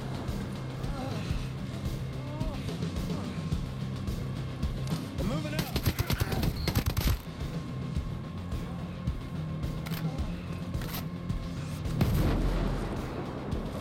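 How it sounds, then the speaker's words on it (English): Booming mortar impacts and rattling gunfire fill a firefight in Ghost Recon Breakpoint, with a dense burst of shots midway and a heavy thud near the end, while a player talks over the combat. "Siapa sih yang kasih mortar?"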